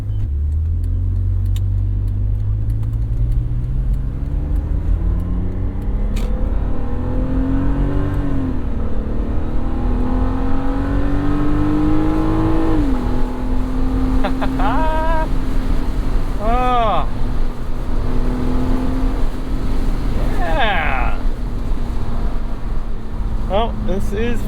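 A 2006 BMW 330Ci E46 with its M54 engine pulls hard along Pacific Coast Highway, the engine note climbing steadily through the rev range, then shifting and settling into a steady drone. Road and wind noise sit under it, with a voice talking intermittently.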